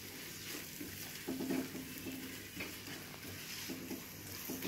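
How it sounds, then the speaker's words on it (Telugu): Tomato paste fries in a pan for a drumstick egg tomato curry, a low steady sizzle broken by repeated scraping and stirring strokes close up, with no talk. "టమాటా పేస్ట్ వాసన పోయేంత వరకు వేయించుకోండి."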